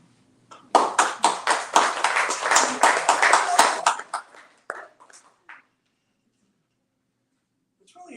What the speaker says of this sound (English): It's really okay to applaud.